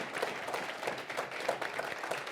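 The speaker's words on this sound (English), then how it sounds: "Can we give them another round of applause" Conference audience applause, a steady quiet patter of many hands clapping at a distance, lasting about two seconds.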